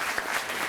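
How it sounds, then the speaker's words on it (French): Conference audience applause, a steady patter of hand claps from a seated crowd, brief and moderately loud. "vous pouvez applaudir Simone."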